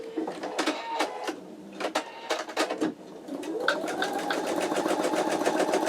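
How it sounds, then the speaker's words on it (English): A home embroidery machine stitches a placement line for an in-the-hoop wallet, starting with a few separate taps and then settling into a fast, steady mechanical rhythm up close. "we're going to go ahead and stitch our placement line."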